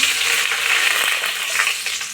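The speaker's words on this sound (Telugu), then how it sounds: "కూరకు పోపు వేసుకుందామండి ఆయిల్ వేసుకొని పప్పు వేసుకుందాము" Loud, dense sizzling of lentils and spices tempering in hot oil for a curry, a continuous crackling hiss close by with slight stirring variations.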